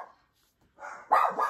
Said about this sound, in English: My dogs are barking again.